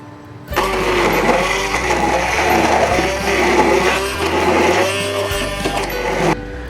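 Chili with a little water whirring in an electric grinder, a loud steady motor drone with chopping rattle that starts abruptly, shifts pitch a few times as the blades work, and cuts off near the end.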